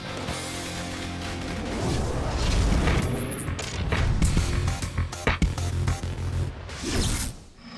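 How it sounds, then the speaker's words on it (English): Fireworks going off inside a bedroom in the House of Hazards video game, a loud dense barrage of booms, cracks and crackling bursts lasting several seconds, with no talking. "Fireworks in a bedroom."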